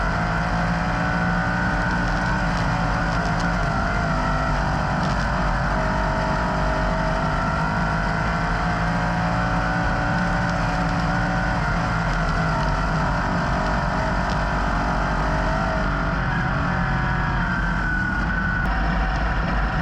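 A sprint car engine drones loud and steady through hot laps at a racing motorplex, a continuous high-pitched roar with slight pitch shifts as it circles the track, no voices over it.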